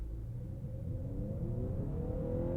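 A Honda Accord Hybrid under a hard launch from a stop, its engine droning loudly and climbing steadily toward redline, heard from inside the car without talk.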